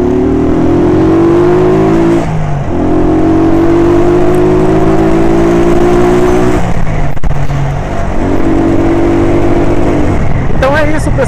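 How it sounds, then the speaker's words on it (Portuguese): A motorcycle engine heard while riding on a road, loud and steady, its pitch climbing through gears with brief dips at each shift, wind noise mixed in. "Nós estamos de moto."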